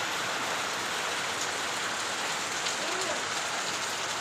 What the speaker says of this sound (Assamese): বৰষুণ দিছে, যাওঁ ভিতৰলৈ যোৱাচোন তুমি।